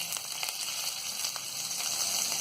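Chopped green chilies and curry leaves frying in hot oil while making sabudana khichdi, a steady close crackling sizzle with scattered sharp pops throughout, no voices.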